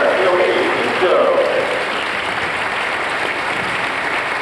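A crowd applauds a karate demonstration at a 1993 national Uechi Ryū black belt championship, steady sustained clapping filling the hall throughout, loud and continuous.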